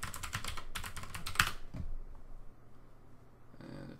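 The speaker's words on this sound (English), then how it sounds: "you'll need to type in your password." A password is typed on a computer keyboard in a quick burst of close, crisp key clicks, followed by a short quiet stretch.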